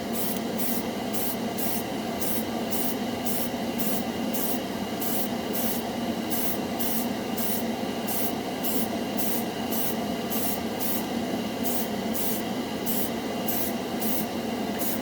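An airbrush turned way up sprays Model Master Metalizer gunmetal paint in a continuous hiss, broken by regular rapid pulses as the brush sweeps across the model, close and steady.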